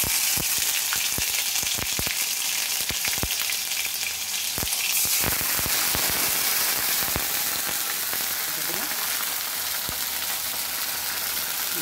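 Ginger dropped into hot oil in a pan, a dense, crackling sizzle that stays steady and close throughout, with scattered sharp pops and a few utensil clicks early on, no speech.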